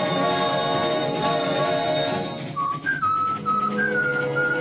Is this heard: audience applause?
no